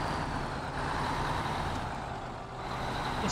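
Heavy truck engine driving in the SnowRunner video game, a steady close low rumble that holds throughout with a slight dip in level near the end, no talking.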